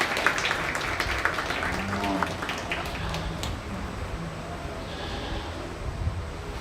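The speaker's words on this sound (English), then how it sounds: "Give them all a round of applause for a job well done." Applause from the crowd at a junior livestock goat show, a steady patter of clapping spread across the space, fairly faint and continuous, with some outdoor rustle and a voice over the top.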